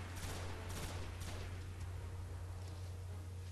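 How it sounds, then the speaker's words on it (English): Rapid bursts of gunfire crackle near the start over a steady low hum, then settle into a dense, continuous rumble of distant shots and blasts in the video game Destiny: Rise of Iron. "Explosions everywhere."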